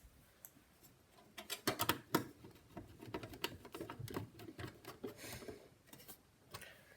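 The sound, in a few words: screws being screwed into a Windows 98 PC case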